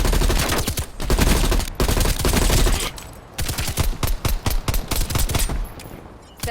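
Gunfire in the shooter Black Ops Cold War, heard as loud, repeated automatic bursts with short gaps, some sustained and some choppy, with no talking.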